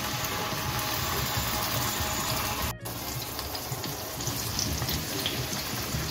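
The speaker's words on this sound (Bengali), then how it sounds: "দেখুন 4 পিস মাছ আমি একসঙ্গে ভেজে নিচ্ছি।" Four pieces of katla fish fry in hot white oil in a non-stick pan, giving a loud, steady hissing sizzle with one brief dropout partway, heard close and alone.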